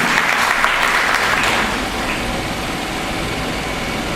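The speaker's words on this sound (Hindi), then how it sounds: "आपके लिए जोरदार तालियों से स्वागत होना चाहिए।" A seated audience at a community association meeting applauds loudly as a guest is welcomed. The dense, steady clapping eases slightly after a second and a half, with a low rumble running underneath.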